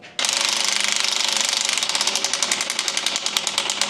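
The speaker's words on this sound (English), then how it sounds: "It's a DeWalt, it ain't that powerful." A DeWalt power tool hammers rapidly and loudly up close, keeping a steady, fast percussive rhythm for several seconds with no talking.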